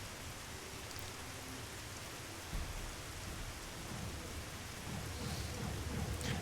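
Rain in the Dig or Die video game, a steady broadband hiss of falling water that thickens in the last couple of seconds with low rumbling underneath.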